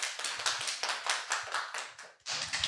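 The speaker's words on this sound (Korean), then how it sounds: "박수 부탁드립니다" Applause from participants of a Zoom online event, a fairly quiet stretch of hand clapping in steady waves, close and continuous with a brief dip near the end.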